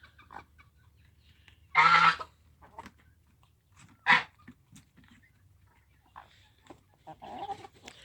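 Loud squawks and honking clucks burst out twice from nearby chickens on a free-range farm, with softer scattered clucks and calls around them in a quiet yard.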